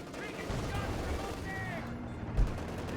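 Sniper rifle fire in Company of Heroes 2, a match of OKW against British forces, mixed into a dense battle din of gunfire and explosions, with one sharper report near the end while a commentator talks over it.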